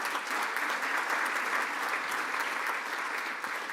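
Applause at a Rotary Club of Tulsa gathering for a couple's 36th wedding anniversary, a dense, steady clapping from a roomful of people that carries evenly throughout without dying down.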